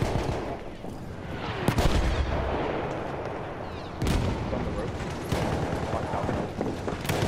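Mortar fire in Battlefield 1, heavy booming impacts landing at intervals over a constant roar of battle, with sharp thumps standing out near the start and middle.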